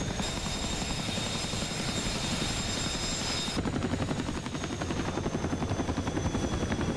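A Chinook helicopter drones loudly and steadily with a pulsing rotor beat throughout, the tone shifting partway as it passes.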